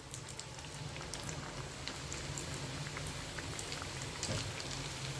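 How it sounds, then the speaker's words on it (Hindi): Suji mawa karanji (gujiya) fry in hot oil with a continuous, even bubbling sizzle like steady rain, close and uninterrupted for a few seconds. "अब इसी में हम बाकी के करंजी को भी इसी तरह से फ्राई कर लेते हैं।"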